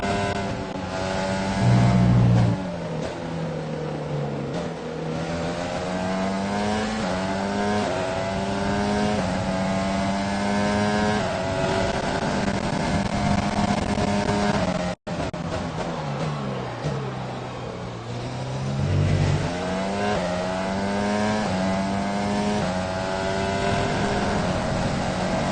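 A Formula One car's engine in the F1 2020 racing game drones steadily and loudly throughout, its pitch sweeping up and down with gear changes and throttle, with brief low thumps near the start.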